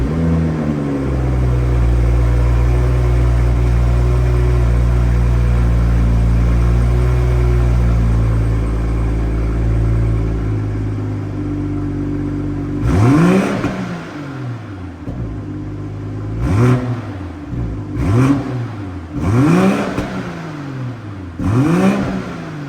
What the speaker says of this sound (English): Let me give you a sound clip of the B58 engine in the Sport Plus mode.